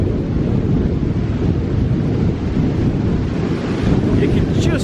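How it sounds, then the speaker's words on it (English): Strong wind blows off a lake in pouring rain in the Lake District, a loud continuous roar buffeting the microphone with surging gusts, no voices. "the wind really blows off these lakes when it's windy and wet"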